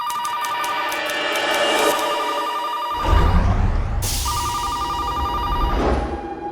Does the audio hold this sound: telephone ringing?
yes